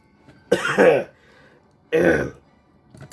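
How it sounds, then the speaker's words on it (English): Two distinct throat clearings, close to the microphone, separated by a short quiet pause. "Had to clear my throat there."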